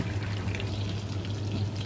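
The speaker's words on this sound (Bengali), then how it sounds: "এটা আর একটু ভাজা হবে, আর একটু ভাজি" Prawns fry in a home kitchen pan with a steady, soft sizzle throughout, a low constant hum beneath and no voices.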